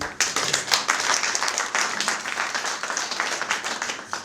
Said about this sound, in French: Applaudissez pour ça, s'il vous plaît